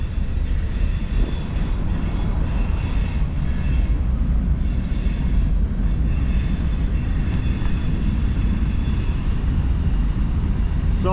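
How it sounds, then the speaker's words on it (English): A train passes on the rails in an outdoor town setting, a continuous loud, close rumble with clattering wheels and a faint whine, holding steady throughout with no talking. "A train!"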